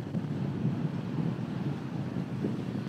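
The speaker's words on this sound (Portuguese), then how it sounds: "mar tá todo revoltado." Rough, churned-up sea at a beach on Guriri Island gives a continuous low, rumbling wash, mixed with steady wind noise on the microphone and no clear voices.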